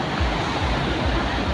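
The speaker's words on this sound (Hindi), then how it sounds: "ये लहरें आप देख सकते हैं काफ़ी डेंजर" Ocean waves roll onto Baga beach in Goa as a continuous surf wash with soft low swells every half second or so, steady and fairly loud with no voices.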